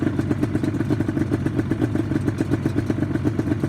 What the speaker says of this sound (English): I need to idle this bike up.